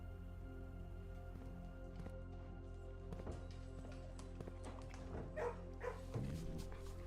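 Dogs barking in a kennel room in the video game Blue Prince, faint yips and barks rising toward the end over a low steady background hum.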